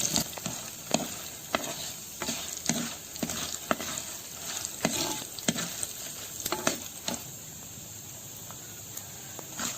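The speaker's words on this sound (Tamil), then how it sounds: "காஞ்ச மிளகா நல்லா எண்ணெயிலே வறுத்துக்கோங்க" Dried red chillies fry in oil with a soft, continuous sizzle, punctuated by regular sharp ticks and pops as the pan is stirred, near and moderately quiet, with no talking.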